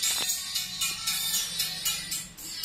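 Only the high-frequency output of a dbx 234xl crossover, a thin, bright hissy signal with repeated shimmering bursts at a steady pulse and no low end, fairly loud and without voices.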